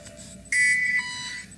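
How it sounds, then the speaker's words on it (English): In-game alarm from the factory-building game Factorio: a steady electronic buzzer tone that jumps louder into a bright, harmonically rich beeping drone about halfway through, then settles into a slightly lower sustained pitch, with no one talking. "And with the alarm going off"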